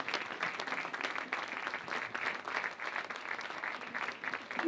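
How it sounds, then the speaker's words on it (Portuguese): Audience applause at a local library tribute to local writers, a steady dense patter of many hands clapping throughout, moderately distant and continuous with no voices over it. "Uma salva de palmas."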